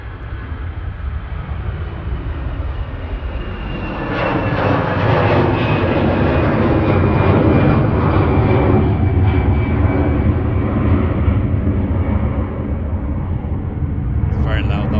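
An EasyJet airliner departing Manchester Airport, its engine roar building from a steady rumble to a loud, sustained thunder that holds close, with a commentator talking over it.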